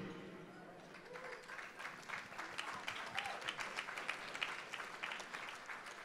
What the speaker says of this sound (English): I'd like to get a round of applause to see if it's one of your favorites